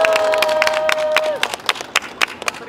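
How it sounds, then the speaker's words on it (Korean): A steady tone fades out, then scattered, uneven claps break out from a crowd at a 2019 union rally of study-material teachers, sparse and fairly close with some voices around them. "저렇게 우리 집밥 동지분들한테 박수 한번 쳐줍시다"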